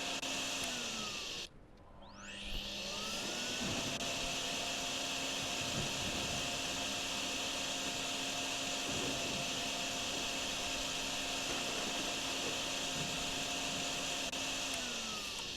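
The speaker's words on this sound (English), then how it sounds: "Right, okay, my vacuum's full again." Vacuum in the DrainSim video game, a loud steady whine and roar that drops out briefly, then spins back up with a rising pitch and holds constant, no talking.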